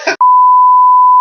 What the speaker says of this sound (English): There's gonna be like a beep for a while.